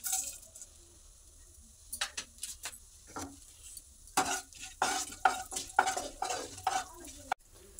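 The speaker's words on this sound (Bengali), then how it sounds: "ওই তেলের মধ্যে একটা শুকনো লঙ্কা, একটা তেজপাতা আর একটু জিরে ফোড়ন দিয়ে দিচ্ছি।" Dried red chilli, bay leaf and cumin seeds tempering in hot mustard oil in a pan, soft crackling sizzle with bursts of spattering and stirring clinks, fairly quiet and close.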